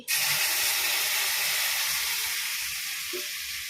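Milk poured into hot roasting wheat flour for a halwa prasadam sets off a loud, sudden burst of hissing sizzle that holds steady and fades slightly over a few seconds, with no talking.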